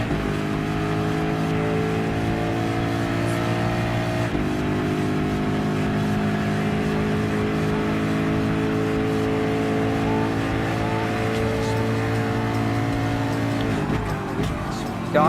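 A Ford GT LM Spec II race car in Gran Turismo Sport roars continuously at high revs, its engine note rising and shifting through gears with brief dips, loud and steady throughout.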